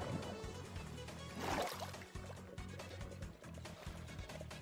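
Flowing water trickles and pours steadily in the Minecraft video game, a continuous liquid wash over a repeating low rhythmic pattern of game music.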